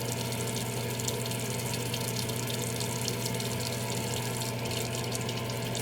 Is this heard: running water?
yes